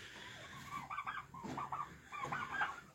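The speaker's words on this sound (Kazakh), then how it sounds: "Осы жерде күрке тауық тұрады." Turkeys kept in a farm pen gobble and cluck in overlapping, fairly close calls that rise and fall over a few seconds against a low background hum.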